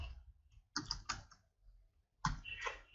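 Keys tapped on a computer keyboard while typing the word Halloween, two quick clusters of crisp clicks separated by a pause, fairly close and quiet, with no one talking.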